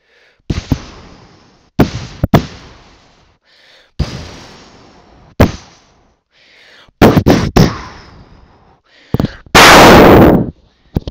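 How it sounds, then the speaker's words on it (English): A series of sharp video game firework bangs, each with a fading rumble, bursts irregularly, ending in a loud hissing crackle. "Okay, too loud of a firework."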